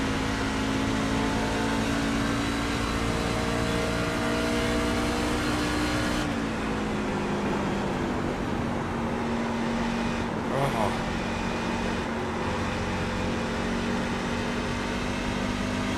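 Race car engines droning steadily in iRacing at Darlington with a 33-car field, a loud continuous roar whose pitch shifts partway through as the pack accelerates.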